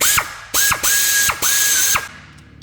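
A ratchet tightens a part on a 2004 Jeep Grand Cherokee, giving four quick, loud, close bursts of clicking, each stroke a short rasping sweep with brief pauses between.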